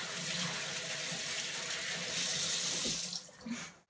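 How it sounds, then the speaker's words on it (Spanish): Tap water running into a sink during handwashing, a steady close rush of water that fades and cuts off near the end. "lava las manos"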